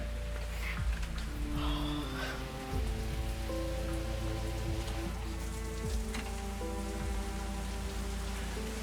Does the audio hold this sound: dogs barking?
no